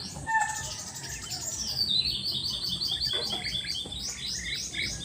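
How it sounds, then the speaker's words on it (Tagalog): Many birds chirping and tweeting at once in the morning, bright high calls layered over a steady outdoor background, lively and continuous. "Kasi dito sa amin every morning talaga may naghuhunihang ibon."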